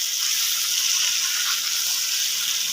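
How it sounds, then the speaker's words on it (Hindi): Potato pieces with cumin seeds fry in oil, a steady bright crackling sizzle that stays even and close throughout, with no voices. "अब मैं 4 से 5 मिनट जो है इनको अच्छी तरह ऑयल में फ्राई करूँगा।"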